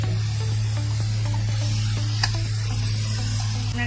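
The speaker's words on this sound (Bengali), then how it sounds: "আদার পেস্টটা দিতে হবে।" Ginger paste stirred into masala chicken cooked with little oil, a continuous loud sizzle and hiss with scraping stir sounds, close up and without talk.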